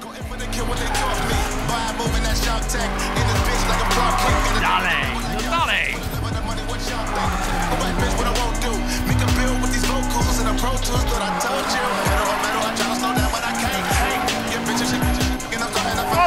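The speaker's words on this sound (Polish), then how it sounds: "Ja lubię te drifty bardzo" Drifting car in the Need for Speed Payback racing game, engine droning steadily with tire squeal and skidding across the run, while someone talks over the gameplay throughout.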